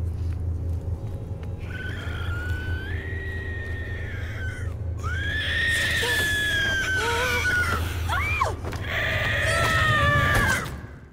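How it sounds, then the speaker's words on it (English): Piercing, wavering shrieks from a Huldra creature in the Norse horror game Through the Woods come in several drawn-out bursts over a low, steady rumble, growing louder and more frantic toward the end. "When startled, they let out one of the worst screams I've heard in a video game."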